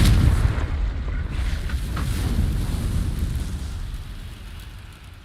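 A Confringo fire spell explodes in Hogwarts Legacy, a deep booming blast with a rumbling, crackling tail that slowly fades over several seconds.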